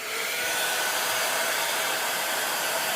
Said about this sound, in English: I'm just going to use the blow dryer because it does dry it quicker.